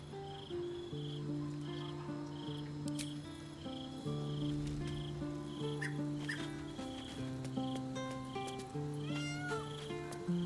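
Cat meows from the video game Baldur's Gate 3, several short meows over sustained musical tones and ambient game sounds, with chirps and clicks scattered throughout.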